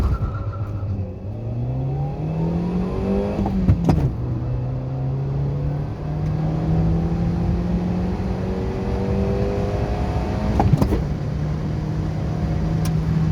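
A 2003 Toyota Yaris 1.3 accelerating from 0 to 100 km/h: the engine note climbs steadily through the gears, with a brief dip at each shift, heard from inside the car, steady and moderately loud.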